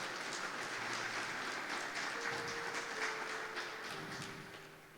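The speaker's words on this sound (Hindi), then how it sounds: "जोरदार तालियां खुदावंद यीशु मसीह के लिए।" A church congregation claps in praise of Jesus Christ, a steady dense patter of many hands that carries on without a break and eases off slightly toward the end.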